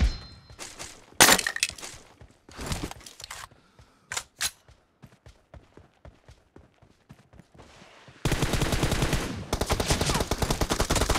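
M416 rifle gunfire in a shooting video game: bursts of rapid automatic shots separated by short pauses, ending in a long, loud, sustained volley of close fire with no talking.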